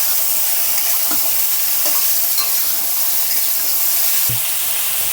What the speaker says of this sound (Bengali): ঝিঙেগুলো হালকা করে আমি ভেজে নেব, যাতে ঝিঙের কাঁচা গন্ধটা বেরিয়ে যায়